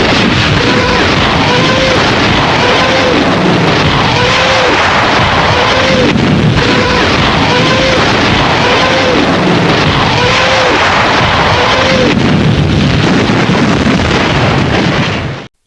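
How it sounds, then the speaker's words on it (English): German WWII Nebelwerfer multiple rocket launcher firing, heard as a loud, continuous roar of rocket launches with repeated rising wailing screeches layered over one another. The din stays dense and overpowering throughout, then cuts off abruptly. "German Panzerwerfer, Nebelwerfer, multiple rocket launcher."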